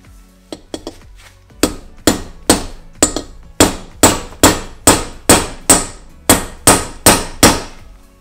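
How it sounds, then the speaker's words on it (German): A club hammer strikes an M10 bolt used as a punch on a spark plug, starting with a few light taps and then about fourteen loud, evenly spaced metallic blows close by. "nur so ein Fäustel. Und als Schlagdorn würde ich nämlich jetzt einfach mal hier so eine M10er Schraube"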